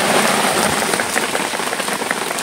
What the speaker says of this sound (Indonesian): menunggu hujan reda